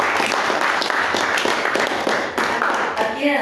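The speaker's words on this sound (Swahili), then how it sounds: "makofi." Applause at a Pentecostal worship service in Nakuru, a dense burst of crowd clapping lasting a few seconds, close and loud, with voices mixed in.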